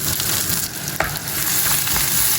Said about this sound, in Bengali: তো পেঁয়াজটা হালকা ভাজা হয়ে গিয়েছে